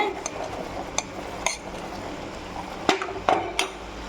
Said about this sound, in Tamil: இப்போது இந்த பேஸ்ட்டை நல்லா கலக்கிக்கிங்க